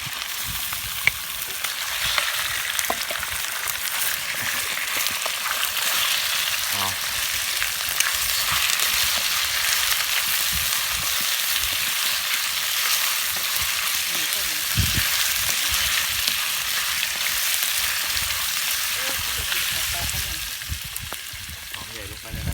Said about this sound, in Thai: หอมได้ทีแล้วใส่ปลาแซลมอนลงไปเลย